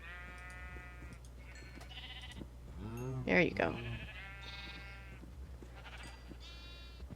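Sheep bleating in a Minecraft-style video game, several short wavering bleats clustered together, with a louder one in the middle, over a steady low hum and a brief spoken remark.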